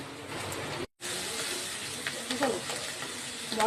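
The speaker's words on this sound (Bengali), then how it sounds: "মশলাটা আমার ভাজা হয়ে গেল।" Spiced masala with chilli frying in a pan for a hilsa and poppy-seed curry, giving a steady loud sizzle with a short break, then brighter crackles and spatters near the end.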